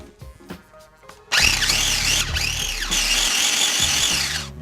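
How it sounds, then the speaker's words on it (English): A blender pulses toast into coarse crumbs, starting after a few light taps and clatters with a loud, rattling motor whir that surges and dips twice over about three seconds before winding down. "we're going to blend it a couple times to make it nice and coarse"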